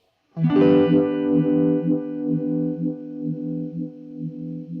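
Guitar chord run through a vibe effect pedal at full intensity, a strong wobbling pulse sweeping the sustained notes after one strum, loud and close, slowly fading.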